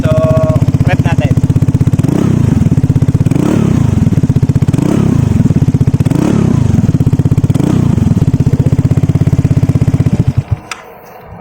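A Vespa Sprint 150 ABS fitted with an Akrapovic muffler and silencer idles loudly and revs up in five evenly spaced bursts, each rising and falling back, before the engine cuts off at the end.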